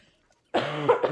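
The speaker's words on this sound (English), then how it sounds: "My cough was bad." A single harsh cough bursts out after a stretch of near silence, close and fairly loud, with a second short cough at the end.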